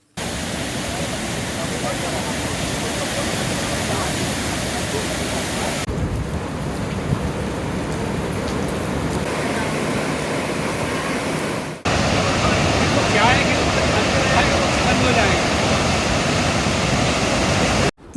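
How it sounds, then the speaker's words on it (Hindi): The swollen Narmada River crashes over the Dhuandhar waterfall during heavy monsoon rain, a loud continuous broadband roar of rushing water with no breaks except a brief cut partway through. "धुआंधार में भी नर्मदा उफान पर है।"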